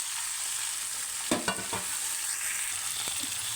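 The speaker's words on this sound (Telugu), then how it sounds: "కొంచెం ఇలా అయ్యాక మనం నాటుకోడి చికెన్ వేసుకోవాలి." Soft, steady sizzle of oil and seasoning in a pan for village-style country chicken curry, with a few faint clicks and scrapes of stirring, no voices.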